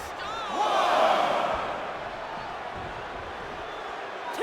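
Wrestling video game arena crowd from WWE 2K25, a broad roar that swells early and then settles into a steady background murmur under a commentator's voice.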